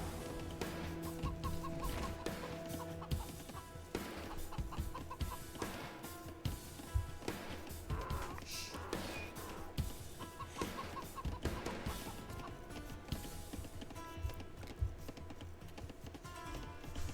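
Chickens clucking and cackling in the Age of Empires strategy game, repeated short game-audio clucks mixed into a dense bed of in-game sounds and background music, with no talking.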